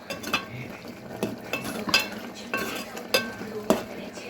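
A spoon stirs drumstick and spinach curry simmering in a pan, giving several sharp scrapes and clinks against the metal in an uneven rhythm over a soft background bubbling.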